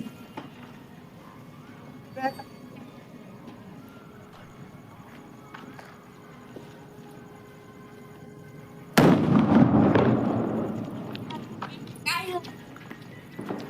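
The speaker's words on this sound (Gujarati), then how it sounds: "ફટાકડા ફોડવાનું ચાલુ થઈ ગયું." A firecracker goes off with a sudden loud bang followed by crackling and fizzing during a family New Year celebration at home, while voices talk before and after the burst.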